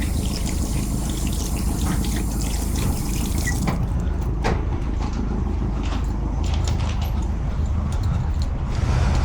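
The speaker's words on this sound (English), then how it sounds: "Just wash my hand a little bit." Tap running steadily into a sink while hands are washed under it, a loud continuous gush with splashy changes as the hands move through the stream, close by throughout.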